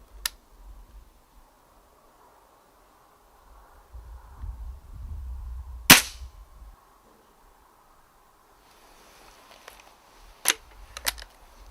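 Spring-powered airgun fired during night-time rat hunting with a lamp: a single sharp crack stands out midway against a quiet outdoor background, followed later by a few fainter clicks.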